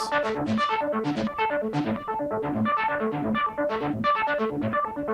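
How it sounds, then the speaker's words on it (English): A bright, bleepy synthesizer runs quick arpeggiated notes up and down in a steady, busy pattern, with no voices. "There's a sort of arpeggiated bleepy thing that's going on in the background"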